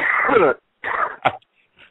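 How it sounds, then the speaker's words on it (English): Close, loud coughing in two rough bursts during a podcast recording, then a short throat-clearing hack and a faint breath. "we're not supposed to be coughing on the air"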